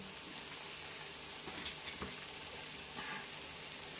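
Capsicum fries in a pan with a steady, even sizzle and occasional soft stirring scrapes, close and alone with no voices.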